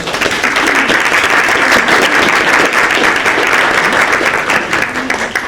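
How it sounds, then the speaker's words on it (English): A theater audience gives a loud, sustained round of applause for student actors before a stage show, full and even throughout with dense overlapping claps from a large crowd. "I want to give our theater members a round of applause."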